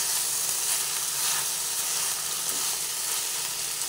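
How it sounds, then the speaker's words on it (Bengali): Pieces of teasel gourd (kakrol) frying in oil in a wok, producing a steady, close, even sizzle that holds unbroken from start to finish with no voices. "এইভাবে ভাজতে ভাজতে এই কাঁকরোলগুলো বেশ সিদ্ধও হয়ে গেছে, এখন ভাজাও হয়ে গেছে।"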